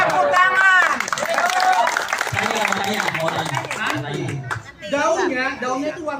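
Audience at an Indonesian talk on growing plants breaks into applause and chuckles, clapping mixed with crowd murmur and a speaking voice over it.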